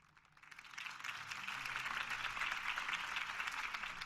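A crowd applauds Harvey Dent's campaign speech in Batman: The Telltale Series, the clapping swelling in after a quiet moment and then holding as an even, moderately distant roar of hands.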